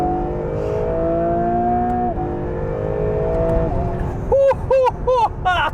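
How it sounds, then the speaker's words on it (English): A 2022 Acura NSX Type S supercar drives along a road, its engine humming from the cabin with shifting tones, then several short clipped bursts of rising, chirping sound near the end. "All right, driving the new NSX Type S."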